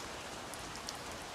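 Steady heavy rain pours down in an even, dense hiss, close and unbroken, with a few brighter drop patters on a surface and no voices.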